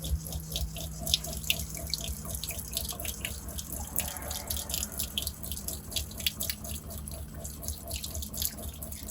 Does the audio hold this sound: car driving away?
no